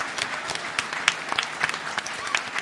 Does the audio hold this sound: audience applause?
yes